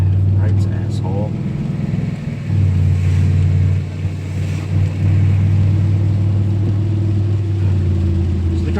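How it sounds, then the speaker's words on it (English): A car engine runs with a loud, steady low rumble that swells and eases briefly, as though lightly revved, while a person talks over it from inside the vehicle. "yeah, so the car is running."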